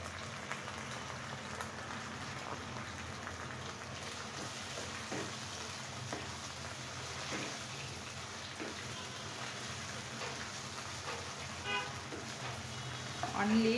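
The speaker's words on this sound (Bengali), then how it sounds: "ধীরে চালতাটা সুন্দর করে ফ্রাই করে নেব" Pieces of chalta (elephant apple) fry in a pan, giving a steady dense sizzle that stays even and close throughout, with faint stirring scrapes toward the end.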